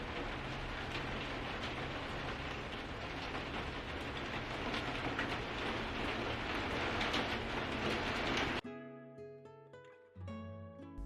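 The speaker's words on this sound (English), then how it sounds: "it started to rain, and it was just the coziest feeling being inside the greenhouse" Steady rain patters on a greenhouse roof for most of the stretch, a dense close hiss that stops abruptly near the end, giving way to quieter tonal sounds.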